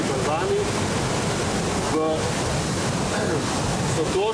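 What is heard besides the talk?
river water rushing fast over rocks at a confluence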